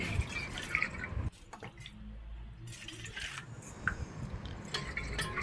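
Close-up sloshing and dripping as dried fish is rinsed in hot water, with wet squishes, splashes and a brief pause in between.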